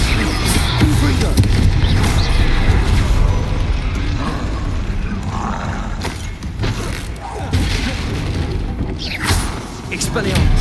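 Repeated blasting-spell explosions from Hogwarts Legacy, booming thuds and bursts layered over continuous game action and a voice calling out spell names, loud and dense throughout with several sharper hits.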